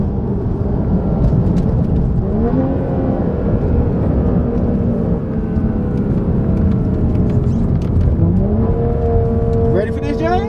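A tuned BMW F30 turbo car pulls hard onto a highway, its engine note climbing through rising gear sweeps from inside the cabin over a constant road roar. Voices are heard in the car.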